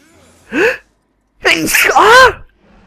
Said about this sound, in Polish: Okej, okay, kichnąłem.